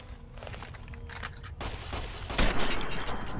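Rifle fire in the Fallout New Vegas video game, a burst of gunshots with a heavier blast near the end, set against a dense game soundscape with no speech.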